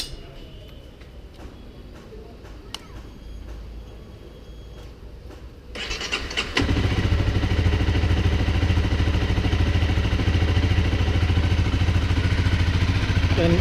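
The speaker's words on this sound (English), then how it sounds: "today I'm going to make a video regarding my CBR 250r exhaust" A Honda CBR 250R motorcycle with an aftermarket exhaust idles. A quieter stretch with faint mechanical ticking lasts about six seconds, then gives way to a loud, steady engine drone with a low, dense exhaust rumble.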